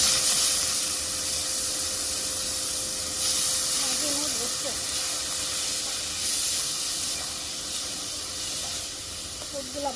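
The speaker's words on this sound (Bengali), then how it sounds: "খুদগুলো ভালো করে পোলার তেলের মতো ভেজে নিব।" Broken rice frying in hot oil with onion, green chilli and salt: a loud, continuous close-up hiss of frying that stays even and steady throughout, with a faint voice in the background.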